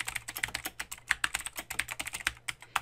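Steady, brisk typing on a computer keyboard, with crisp individual key clicks tapping out in an uneven, continuous rhythm and occasional louder strikes, close up with no voices.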